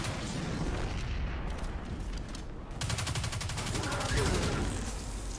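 A big gun firing in Destiny 2, dense rapid-fire bursts and booms over loud game noise, with a sustained rattling volley in the second half and a player's voice speaking amid the shooting.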